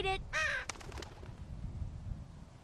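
Crow cawing in The Walking Dead: Season 2 video game, two or three harsh calls at the start then fading into quiet ambient background.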